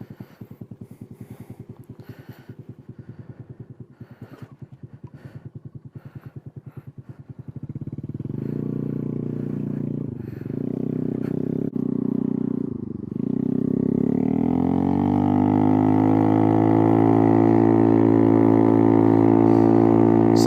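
Honda Navi motorcycle running with no exhaust silencer, a loud raw idle chug that builds into rising revs and a sustained drone as the bike pulls away on a ride, no talking.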